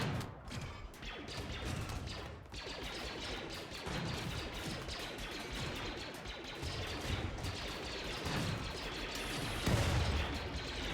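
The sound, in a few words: weapon gunfire in the video game RimWorld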